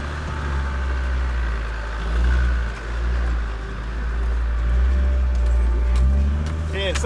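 A 4x4 vehicle's engine idles in low range first gear on rough terrain, a deep steady rumble that swells and dips slightly, with a voice talking briefly over it.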